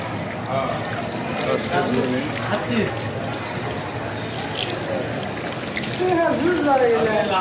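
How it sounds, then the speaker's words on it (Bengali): Hands are washed under running tap water at a restaurant wash basin, a steady near splashing stream with people talking over it. "হাতটা ধুয়ে নেই"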